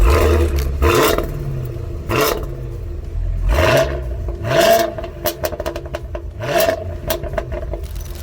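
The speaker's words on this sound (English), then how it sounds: "I want you to listen to the difference in the exhaust tones." A supercharged Land Rover in V mode revs hard in repeated bursts, its exhaust roaring and then falling away about every one and a half seconds, loud and close, with no voices.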